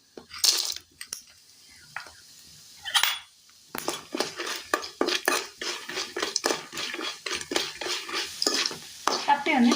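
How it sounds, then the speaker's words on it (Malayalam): Dried tapioca pieces frying in oil in a Kerala kitchen pan, a sizzle with repeated metal scraping and stirring clinks in an irregular rhythm, close and clear, with no voices. "അല്പാൽപമായിട്ട് ഇട്ട് കൊടുത്ത് ഒന്ന് വറുത്തെടുക്കാം."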